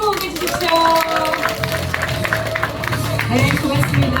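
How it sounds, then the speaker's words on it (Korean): An audience at a party members' day political talk event in Cheongju applauds, steady clapping and crowd noise running throughout with some voices mixed in. "여러분 박수 한번 보내주십시오"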